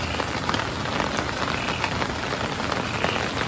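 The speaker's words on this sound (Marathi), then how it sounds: "पाऊस चालूच आहे बाहेर रिमझिम रिमझिम" Steady patter of light drizzle on a surface at a forest campsite, an even, continuous hiss with fine drops tapping close by; no voices.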